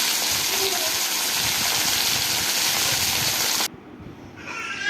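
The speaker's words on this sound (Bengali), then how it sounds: "এবার আমি তেলের ওপরে জিরে ফোড়ন দিয়ে দিয়েছি।" Cumin seeds hit hot oil with a loud, dense, close-up hissing sizzle that holds steady, then drops sharply to a quieter simmer near the end.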